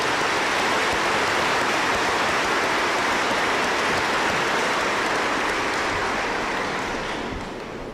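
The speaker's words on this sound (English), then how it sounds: "that deserves a round of applause" Dense, loud, sustained applause from a crowd at a 2017 high school graduation ceremony, a rain-like wash of clapping that holds steady and then begins to fade at the end.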